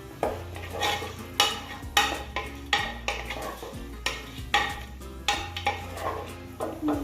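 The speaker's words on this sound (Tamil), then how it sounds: "அப்போ இதை நல்லா வதக்கணும் மறுபடியும்." Onions for biryani kanji sautéing in a pot are stirred with a metal ladle. Steady rhythmic scrapes and knocks land about once a second over a soft frying sizzle, close and with no talking.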